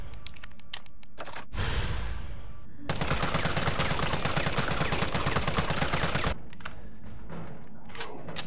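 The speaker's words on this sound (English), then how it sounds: "Now for the assault rifle with the grip and magazine" Assault rifle fitted with grip and magazine firing in Resident Evil 3 Remake: a short rattling burst, then a long sustained stream of rapid automatic fire, with scattered clicks and handling noises before and after.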